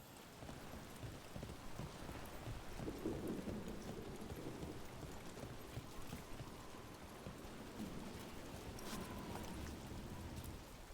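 Steady, dense rainfall hisses throughout a stormy scene in the video game Dragon Age: The Veilguard, with low, distant thunder rumbling underneath and no voices.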